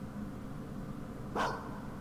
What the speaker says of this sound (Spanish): De hecho nos dicen algo así como ladrido oscuro